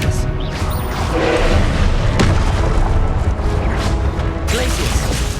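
An Expelliarmus spell is cast in the Hogwarts Legacy video game, with loud booming blasts and crashing impacts over a dense rumble. The effects are heavy and continuous, with a sharp hit near the middle.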